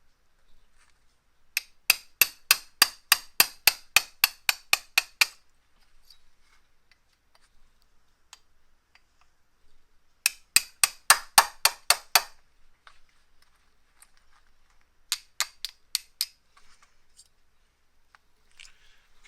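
Sharp metallic taps drive out the two pins holding the barrel of a Maverick JS-9mm, coming in three rapid bursts of evenly spaced strikes, close and crisp, with quiet pauses between.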